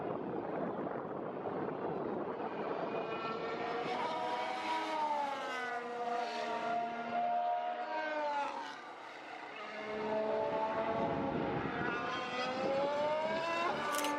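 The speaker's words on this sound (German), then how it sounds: "Turn 9 ist wirklich extrem beeindruckend mit den neuen Hybrid-Formel-1-Autos." Hybrid Formula 1 race cars sweep past at Turn 9, a high, piercing engine whine rising and falling in pitch as each car passes, loud and sustained with a brief dip between passes.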